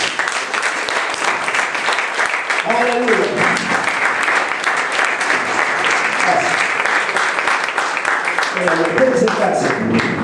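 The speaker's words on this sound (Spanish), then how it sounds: "Un grito de júbilo, un grito de guerra, un fuerte aplauso al rey." Church congregation applauding and cheering throughout, loud and sustained, with a preacher's voice speaking over the clapping and voices rising in short bursts.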